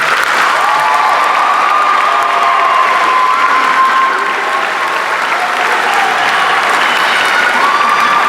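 A high school graduation crowd for the class of 2018 applauds and cheers steadily throughout, a dense wash of clapping with scattered shouts and whoops at a loud, even level.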